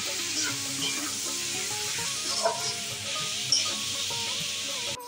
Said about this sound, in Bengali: দিয়ে ভালো করে নাড়িয়ে ভেজে নেব।